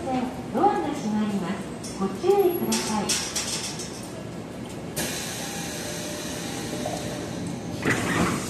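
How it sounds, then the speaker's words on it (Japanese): A Tokyo Metro 13000 series train's doors slide shut with a hiss and a thud at a subway platform in 2017, under loud platform announcements and station ambience. "一 番線ドアが閉まります。"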